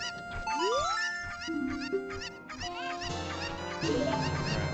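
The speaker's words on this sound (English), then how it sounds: "I'm gonna steal one of your chickens, lady." Chickens in a video game give a busy run of clucks and honking calls with pitch-sliding notes, layered over steady game music and fairly loud throughout.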